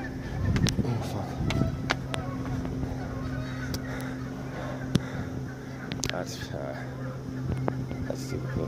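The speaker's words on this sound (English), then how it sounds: "Whoa, bird." Geese honk repeatedly outdoors at a spot with painted rocks, sharp calls scattered throughout over a low steady engine drone, while people talk close by.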